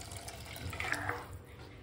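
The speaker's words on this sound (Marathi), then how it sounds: "आता हे पाणी ना जे आपण उकडलेली मटकी होती ना तेच पाणी पण टाकतो" Boiled moth bean cooking water is poured into a pot of spicy misal, making a soft, continuous liquid splash and trickle. It is fairly quiet and runs for the whole brief moment.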